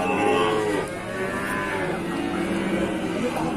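A cow lows in a long drawn-out moo, moderately close, followed by quieter ambient farm noise.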